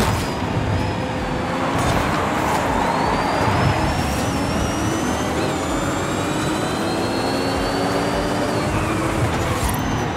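A loud, continuous engine roar with whining tones that rise and fall from a heavily modified Mini Cooper making a U-turn, with no voices.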